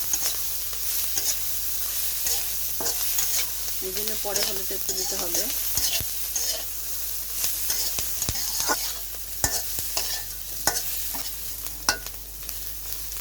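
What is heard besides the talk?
bata fish and onions frying in a kadai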